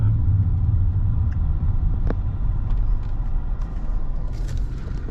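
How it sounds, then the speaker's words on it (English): Car being driven through the city streets of Hamtramck, Michigan, near Detroit, a constant loud low engine and road rumble from inside the cabin with a few faint clicks and rattles over it. "I'm just gonna be kind of driving around down some of the main streets as well."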